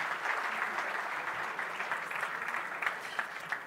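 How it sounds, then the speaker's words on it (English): An audience applauds steadily, a warm wash of clapping from a crowd that carries on for a few seconds. "if we can give our panelists one final round of applause"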